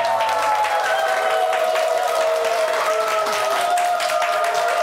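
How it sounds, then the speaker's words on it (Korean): A studio audience on a Korean morning talk show claps steadily to welcome a real estate expert, a dense, even patter with sustained musical tones running beneath it. "박종복 부동산 전문가를 박수로 환영해 주시죠"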